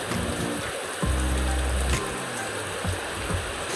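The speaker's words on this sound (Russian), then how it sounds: "и дождь идет, и мы ничего не можем снять" Steady rain patters on a surface on Koh Lanta, Thailand, with a low pumping hum rising and fading partway through.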